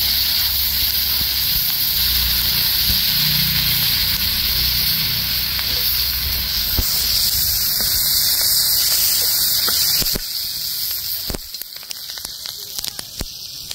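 Prawns fry in very hot oil with a steady, loud, dense sizzle and crackle that runs throughout, then thins into scattered pops near the end.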